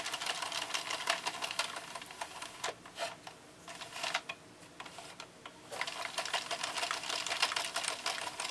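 Sentro knitting machine being cranked through rows, a dense, rapid clicking and clattering that runs continuously, briefly easing off twice before picking up again, close and without talk.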